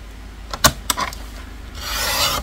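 Scrapbooking paper being cut: a few light snips and taps, then a steady close rasping slide as a blade runs along the sheet, quiet and alone.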